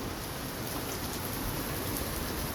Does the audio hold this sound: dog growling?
no